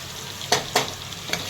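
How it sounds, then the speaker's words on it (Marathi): Chopped garlic and curry leaves sizzle in hot oil while being sautéed, a steady frying hiss broken by a few sharp scraping stirs, close and alone. "ते पण छान तेलामध्ये परतून घेत आहे"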